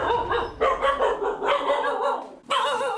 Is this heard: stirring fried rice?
no